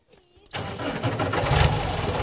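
A tractor engine cranks and catches at about half a second, then runs with a steady, rough idle that swells slightly, close and loud.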